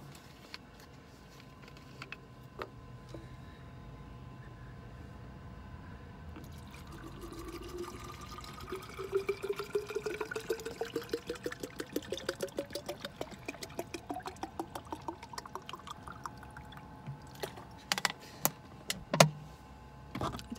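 Water pours into a bottle holding pomegranate pieces, a thin trickle whose pitch climbs steadily as the bottle fills, followed by soft clicks and handling noises, faint and close, with no talking.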